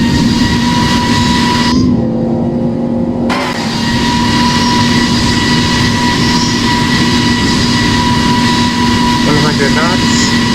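Simulated Airbus A350 jet engines roaring at takeoff thrust in a flight simulator game, a steady loud whine and drone sustained throughout, with a brief dip partway through and cockpit voices over it.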